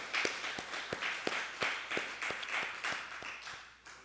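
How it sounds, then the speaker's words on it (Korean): A congregation claps in a steady, even rhythm during a church worship service, roughly three claps per second from many hands, moderately loud in a reverberant hall, with no speech. "하나님께 영광의 박수 드리겠습니다"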